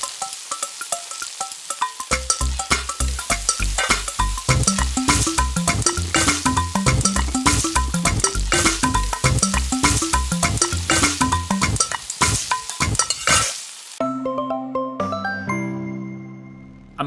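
Bright, bouncy chiptune-style melody from the cooking minigame of Eastward, playing loud and continuous with a steady bass line, then switching to a sparser jingle near the end.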